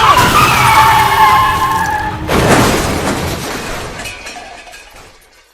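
A car skids with a long tire squeal, then crashes in a loud burst of impact and debris that fades over several seconds, with no one talking.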